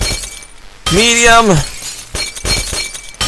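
Glass shatters in the physics game Happy Wheels with one loud burst of breaking, followed by a short scatter of crunchy debris; someone speaks briefly just before it.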